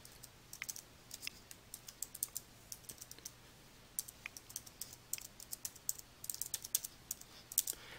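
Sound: typing a web page URL on a computer keyboard

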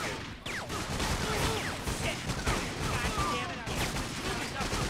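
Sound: gunfire from the video game 50 Cent: Bulletproof

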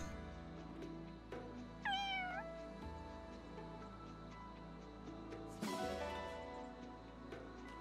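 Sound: cat meowing in the video game Fire Emblem Engage

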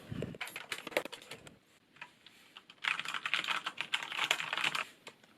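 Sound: typing on Corsair K70 LUX RGB Cherry brown switch keyboard

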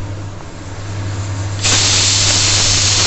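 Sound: onion frying in a pan

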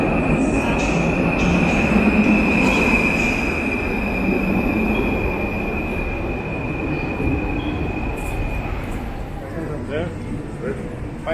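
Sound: train riding on rails, passenger onboard

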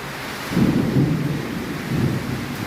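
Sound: rain storm

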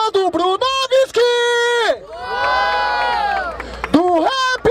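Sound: rap battle crowd cheering for Bruno Viski

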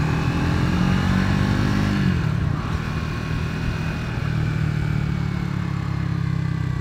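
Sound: Triumph Scrambler 400x motorcycle riding

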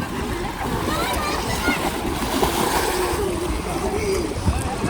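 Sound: children splashing while bathing in the Yamuna river

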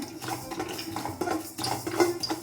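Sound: roasting poppy seeds, stirring in a pan on low flame

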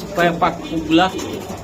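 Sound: pigeons cooing at a pigeon market

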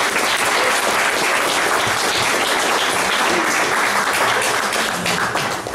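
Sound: audience applause welcoming the speaker

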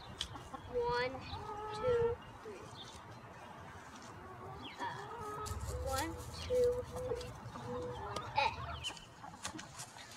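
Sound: chickens clucking

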